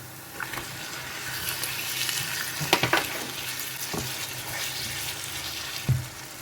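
Three-quarters of a kilo of cleaned chicken hits a hot pan and fries with a loud, close sizzle, broken by a few clattering stirs and bumps.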